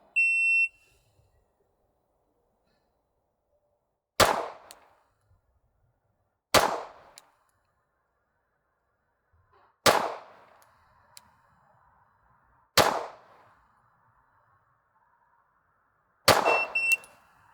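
A pistol fires five slow, evenly spaced rounds on a shooting range, each shot a loud, sharp crack with a short ringing decay, separated by gaps of roughly three seconds; a brief electronic beep precedes them.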